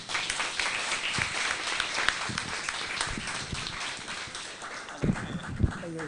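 A modest audience at a live-streamed academic event on ethical AI in higher education gives a thin, scattered round of clapping, fairly faint, with a few sharper knocks and shuffling near the end.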